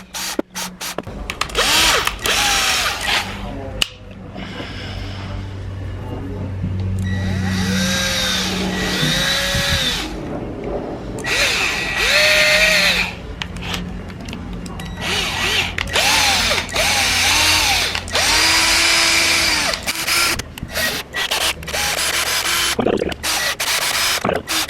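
Power drill boring a 4 mm hole into a jig part for a loudspeaker foil build, with repeated bursts of whirring motor and spindle noise, rising and falling between short pauses, close up and fairly loud.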